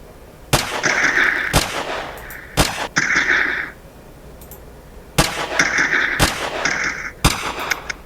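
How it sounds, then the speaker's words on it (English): Sharp gunshots crack repeatedly, some near and loud, others farther off, in irregular bursts with brief gaps of quiet between them. "Can we tell where the gunshots are coming from?"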